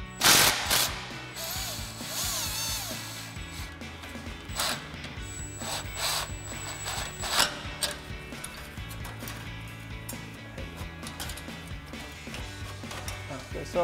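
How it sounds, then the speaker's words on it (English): An impact wrench with a 13 mm socket loosens an exhaust clamp, giving loud, close, rattling hammer bursts that start and stop over steady background noise. "grab our 13 mil socket on our impact, loosen up this clamp"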